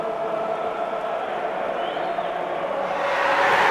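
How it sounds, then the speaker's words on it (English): Spectators at an England versus Scotland rugby league international make a steady roar in the final seconds, a dense distant crowd noise that swells louder toward the end, with no talk over it. "Crowd on their feet, making noise"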